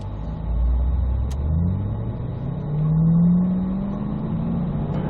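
A Chevrolet Corvette Z06 pulls away on a Las Vegas track, its engine rumbling low and loud, then climbing in pitch as it accelerates, with a steady drone throughout and no voices.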